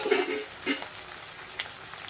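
Dried red chillies and garlic crackle in hot oil for a ridge gourd chutney, a steady hiss with a few sharp pops, close and moderately loud.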